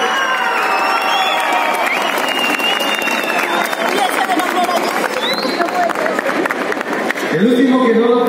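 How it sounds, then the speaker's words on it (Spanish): A large audience at a convention contest shouts and cheers loudly and steadily, with whoops and scattered clapping, before a voice speaks over the crowd near the end. "Hola, público, grite."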